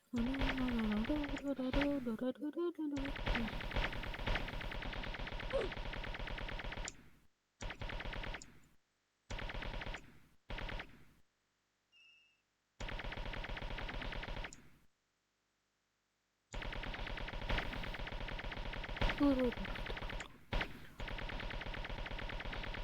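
Bursts of video game machine-gun fire rattle in rapid, dense volleys broken by sudden silences, with people talking over parts of the action.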